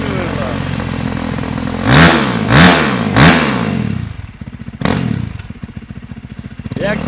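An old Ursus 30 tractor engine chugs and revs loudly nearby while crossing the Ślęza River, with rising surges and a steady clattering idle, while people shout excitedly over it.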